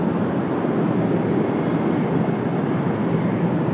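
A Gulfstream G450 business jet at Washington Dulles airport on a cloudy day makes a steady broadband jet engine roar, loud and unbroken for the whole stretch, with no voices.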